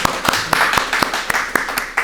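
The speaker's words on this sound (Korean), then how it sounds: "우리 박수 한번 쳐드릴까요?" A church congregation claps in a slow, even rhythm, about eight or nine distinct claps in sequence, fairly close and moderately loud, with faint murmuring underneath.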